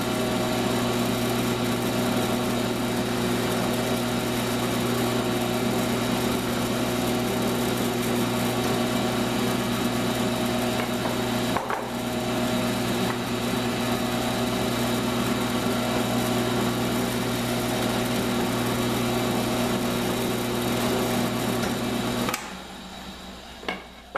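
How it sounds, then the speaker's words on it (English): Drilling two holes in a wooden backer piece for a mobile tool base, a steady motor whine running continuously for over twenty seconds, close and fairly loud, stopping near the end. "I'm going to drill the 2 holes"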